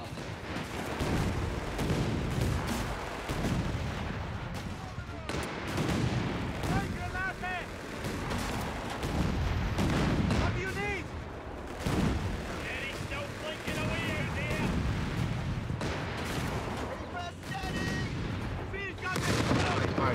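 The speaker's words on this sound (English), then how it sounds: "The British anti-tank gun is a formidable threat." Anti-tank gun shots and gunfire in Company of Heroes 3, North Africa battle at Ajdabiya, booming blasts and crackling fire running continuously under game music and voices, with someone talking over it.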